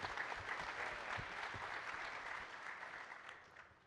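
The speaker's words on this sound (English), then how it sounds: "Round of applause for Kristen." An audience at a real estate coaching event claps in a dense burst of applause that holds steady, then thins and fades near the end.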